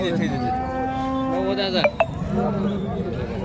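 Cattle at a muddy rural cattle market moo in a long, low, drawn-out call close by, followed by a couple of brief metallic clinks like a cowbell, amid outdoor market chatter.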